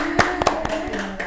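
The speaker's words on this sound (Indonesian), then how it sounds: "Tepuk tangan dong" A few hand claps at a TIK TALK podcast recording, a handful of sharp, close claps spaced unevenly over a second or so, ringing slightly in a small room.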